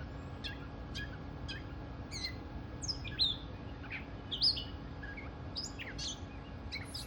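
A single bird sings outdoors in a series of short, sharp chirps and whistled notes spaced a second or so apart, moderately distant and clear over a faint steady hum.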